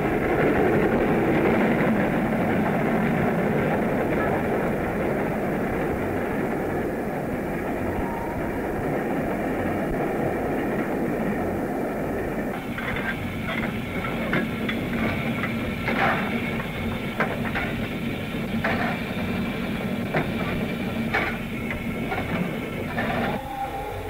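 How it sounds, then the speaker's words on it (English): A steam train rumbles steadily along the tracks in the UK, recorded in 1967 on reel-to-reel tape, a continuous heavy roar with rhythmic clicking and clattering growing more distinct in the second half. "Steam going. Yes, there was something about a steam train"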